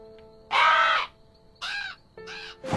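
Several cartoon crows caw at a scarecrow in an animated Halloween episode: three loud harsh bursts in a row with short gaps, followed by the start of a fourth.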